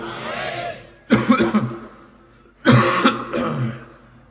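A man with a cold coughs in two harsh bursts with throat clearing, close and loud, separated by a short pause, during an Islamic sermon (waz).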